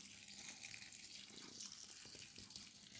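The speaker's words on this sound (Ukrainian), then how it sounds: "і заливаємо кипяточком" Boiling water poured over three packs of crushed instant noodles with seasoning, a continuous soft hissing splash of liquid, faint and close, with no speech.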